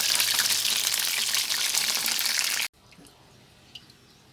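Chicken wings frying in fish sauce give off a loud, steady sizzle that cuts off abruptly as they are scooped out, leaving faint quiet sounds and a small clink.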